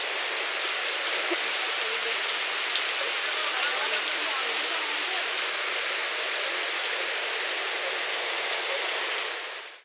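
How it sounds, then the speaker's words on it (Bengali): Heavy rain pours down steadily as a dense, loud, even hiss that lasts the whole time and cuts off abruptly at the end. "প্রচুর বৃষ্টি হচ্ছে।"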